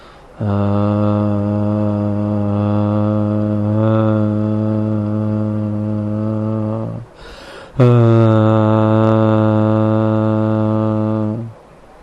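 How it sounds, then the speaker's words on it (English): A person hums from the navel area, producing a loud, steady, sustained drone for about seven seconds, then a brief breath and a second long hum of similar strength. "create the humming sound like this."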